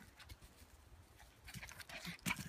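Dog playing fetch with a stick outdoors, with faint panting, scuffling and rustling that grow louder toward the end and a sharp burst near the close, with no talk.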